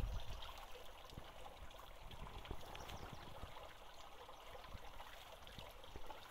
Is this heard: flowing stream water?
yes